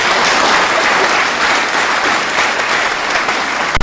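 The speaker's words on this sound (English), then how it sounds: "give all our Namibian sportsmen and women a big hand of applause" Audience at the Namibia Annual Sports Awards 2018 applauding Namibian sportsmen and women, dense continuous clapping that stays loud and even throughout, with no voices over it.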